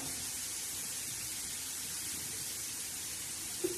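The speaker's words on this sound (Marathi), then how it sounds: "आता मस्त असं कांदा फ्राय होत आहे" Onion fries in a pan on a tawa for a spiny okra dish with green chilies and tomatoes, giving a steady, even sizzling hiss throughout, close and moderately loud, with no talking.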